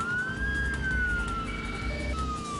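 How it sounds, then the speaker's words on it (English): A police siren wails in the Midtown Madness driving game, a loud, continuous rising and falling tone over a low engine rumble. "wanna hear some sirens"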